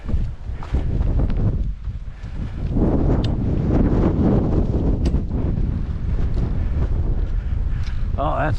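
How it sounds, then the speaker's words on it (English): Strong wind gusts buffet the microphone on the Roan Highlands stretch of the Appalachian Trail, a loud rumbling roar that swells and persists, with faint voices mixed in. "I think the wind's kind of adding a nice element to this."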